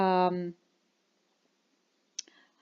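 A graphing calculator app gives a harmonic electronic tone that cuts off, then after a silent pause a single sharp mouse click sounds, close and crisp, followed by a faint trailing rattle.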